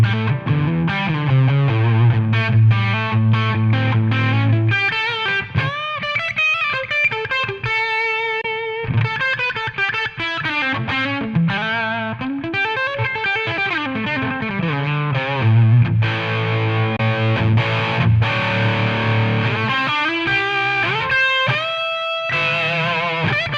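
An electric guitar runs through a 2 Stone SS Ultimate pedal at its highest gain setting, playing loud, heavily distorted chords and sustained lead lines with rhythmic muted chugs for over twenty seconds, with no voices.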